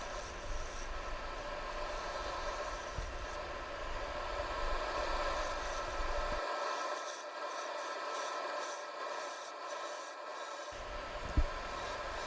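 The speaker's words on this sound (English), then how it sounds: "With the sharper bowl gouge, I start the hollowing process." A sharp bowl gouge hollows a spalted wooden bowl on a lathe, producing a faint, continuous scraping rasp with a steady hum underneath and one small knock near the end, no speech.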